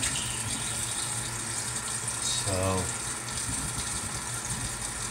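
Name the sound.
water poured into a pot for menudo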